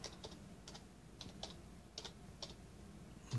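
Soft clicking of a computer keyboard, scattered keystrokes in small bursts, faint and close against a quiet room hum.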